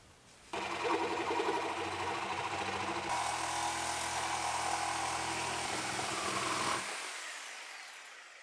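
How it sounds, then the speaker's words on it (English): A power cutter buzzing steadily through a metal dash bracket on a 2015 Mustang donor car, starting abruptly, running loud for about six seconds, shifting pitch midway, then stopping. "We'll cut our first bracket."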